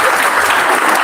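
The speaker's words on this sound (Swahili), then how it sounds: "Wacha tupige Bwana Yesu makofi mazuri." Church congregation clapping in praise of Jesus at a Kikuyu Akorino thanksgiving service, a dense, steady wash of applause filling the whole moment, loud and close with no break.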